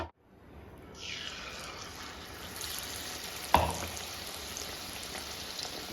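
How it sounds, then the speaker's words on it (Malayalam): Batter-dipped bread slice dropped into hot oil in a small Kerala frying pan, a steady close sizzle rising after a second and continuing evenly, with one brief clink midway. "ഡിപ്പ് ചെയ്തതിന് ശേഷം നമുക്ക് എണ്ണയിലോട്ട് ഇട്ട് കൊടുക്കാം"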